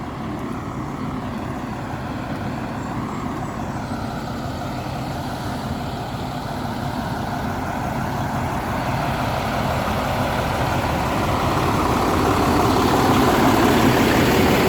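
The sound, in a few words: concrete truck engine idling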